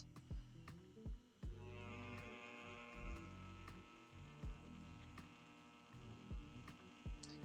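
A Mast Archer tattoo pen with an 11-round shader hums steadily at 8 volts, a faint, even motor drone broken by a few light clicks, with no talking.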